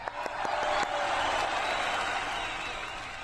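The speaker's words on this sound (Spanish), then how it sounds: "Un aplauso, por favor." A crowd applauds with some cheering, a dense wash of clapping that swells early and then slowly fades, moderately loud and without speech over it.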